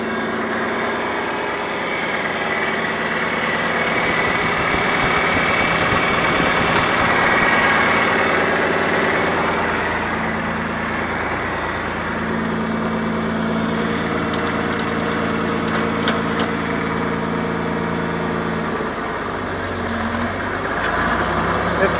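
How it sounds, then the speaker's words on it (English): A tractor pulling a light disc harrow across land while cutting weeds and leveling, its engine droning loud and steady at close range with faint clanks over the continuous rumble. "This disc is so light, this tractor will pull it without lifting it and starting over."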